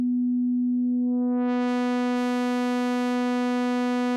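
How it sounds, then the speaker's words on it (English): A synthesized sine wave holds steady and loud, then gains a growing stack of bright overtones that thicken it into a buzzing, sawtooth-like tone, sustained alone throughout. "a sine wave is the simplest sound. That means that it's only one frequency."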